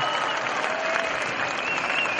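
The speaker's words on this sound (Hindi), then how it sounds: "एक बार जोरदार ताली बजाइए" Dense, loud applause from a large crowd at a 2013 Sonu Nigam night held at a temple function, a steady wash of clapping with no talking.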